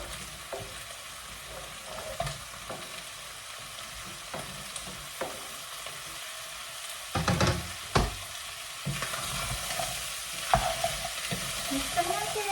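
Carrots and potatoes stir-fry in a pan with a steady sizzle and intermittent scraping, clattering stirs, close and continuous, with no talking.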